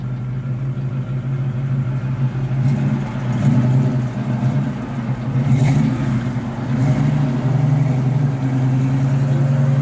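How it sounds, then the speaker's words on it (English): A 1968 Chevrolet Camaro RS/SS 396 with a 4-speed rumbles steadily with a deep exhaust note, swelling now and then as if revved, continuous and close throughout. "Sounds good out the exhaust."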